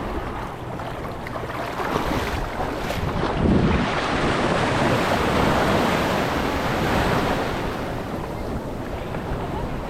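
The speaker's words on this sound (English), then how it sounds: "Another wave coming." Ocean waves surge and break continuously at the Chesapeake Bay Bridge-Tunnel during kayak fishing, with wind buffeting the microphone and a swell building around the middle; no speech.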